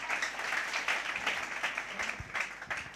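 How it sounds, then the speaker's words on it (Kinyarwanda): A church congregation applauds together, a continuous crowd of hands clapping at moderate distance, steady and sustained across the moment with a faint low rumble beneath. "Dukomere Imana amashyi."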